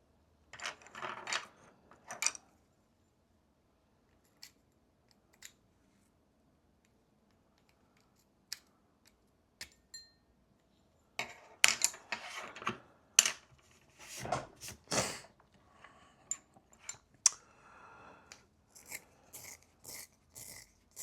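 A pencil with soft lead is worked in a sharpener, giving scattered short grinding and scraping bursts, quiet and close, with clusters of rapid rasps separated by silent gaps.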